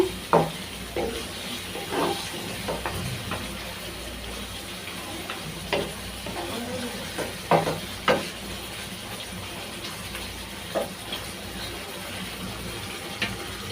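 Meat cooking in a pot for tehari, a low steady sizzle with sharp periodic spoon knocks and scrapes as it is stirred, moderately close, no speech.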